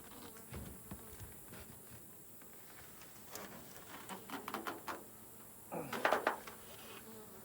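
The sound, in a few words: honeybees buzzing in hive box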